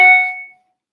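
A single bright electronic phone notification chime rings out and fades away within about half a second.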